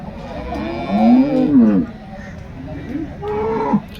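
A Holstein Friesian cow at a cattle market moos loudly and close by, two long low calls separated by a short pause, over faint background noise.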